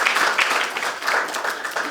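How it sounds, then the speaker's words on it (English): An audience at a high school poetry winners event applauds for the students, a moderate, steady patter of clapping heard alone for about two seconds. "Let's give a warm round of applause for all the students that came out"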